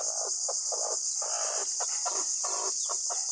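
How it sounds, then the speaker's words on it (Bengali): A chicken gives a run of short, choppy clucks and squawks close by as it is lifted up by the back, over a steady high whine of insects in the background. "মুরগিটা তোলো মুরগিটা পিঠের উপরে ধরে তোলো আরামে"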